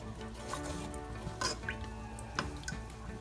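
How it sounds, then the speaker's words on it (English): Bread dough being mixed with oil in a bowl, making soft wet squelching and dripping sounds at a low, steady level, with a few brief clicks of the spoon against the bowl. "Give that a mix."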